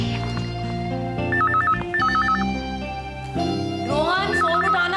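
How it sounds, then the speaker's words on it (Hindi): A telephone rings indoors with repeated electronic trilling bursts over a tonal musical background, fairly loud and continuous. "फोन उठाना प्लीज"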